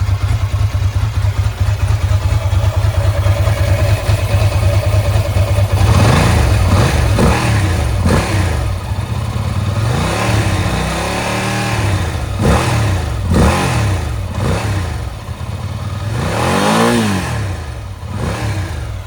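A Ducati 907IE motorcycle engine idles while warming up, then is revved repeatedly in rising and falling bursts, close and loud, with the throaty idle between each blip.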